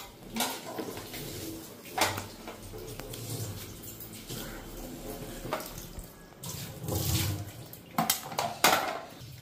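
Tap water runs into a sink while dishes are scrubbed with soap, with intermittent splashing surges and the clink of plates and cutlery, close and fairly quiet, no talk.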